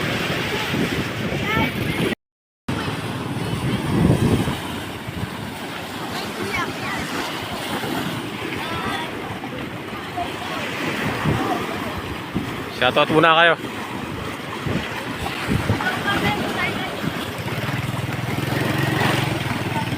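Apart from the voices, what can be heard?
large waves during a typhoon in General Luna, Quezon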